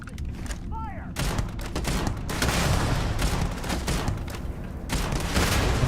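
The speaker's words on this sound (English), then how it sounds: "I've got some sort of rocket launcher." Heavy weapon fire in the video game Starfield, including a rocket launcher, comes as a dense roar of blasts and rumbling explosions that swells louder after a few sharp cracks, with a voice speaking faintly underneath.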